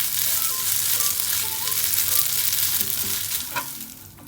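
Spaghetti tossed with parsley and crushed black pepper sautés in a hot pan, a steady close sizzle with soft scraping stirs and a brief clatter near the end.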